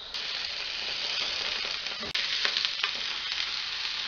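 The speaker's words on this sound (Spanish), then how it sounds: "Cuando esté caliente, vamos a colocar la pechuga y la vamos a dorar ligeramente" Chicken breast browning in hot oil in a pan, a steady loud sizzle and crackle with a brief sharp burst midway as the meat is placed or moved, no voices.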